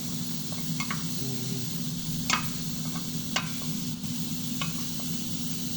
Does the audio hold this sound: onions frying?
yes